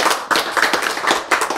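Several sharp hand claps in quick, uneven succession, close and fairly loud, during a church Bible teaching session.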